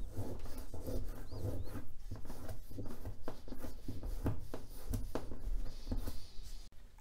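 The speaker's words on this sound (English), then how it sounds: "Much of the remaining stuff can be rubbed off with your finger." A finger rubbing old caulk off a bathtub produces close, continuous scuffing and scraping in short repeated strokes at a moderate level, with no talk.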